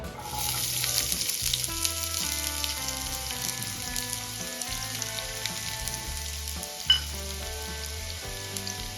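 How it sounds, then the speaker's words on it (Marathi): Chopped onion fries in a little oil in a kadai, giving a steady close sizzle throughout with occasional stirring clatter and a low background hum. "आता यामध्ये चॉप केलेला कांदा ॲड करून घेऊया"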